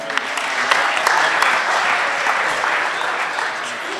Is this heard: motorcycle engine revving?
no